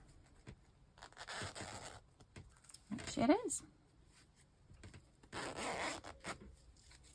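Zipper on a knitted moss stitch pouch sliding in short rasping bursts, close by, with a brief spoken remark in between.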